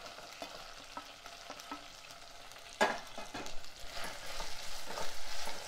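Green chillies and sliced onion frying in a pan for mango dal, a faint sizzle with a few soft stirring scrapes, then a sharp clatter and a louder sizzle in the last seconds.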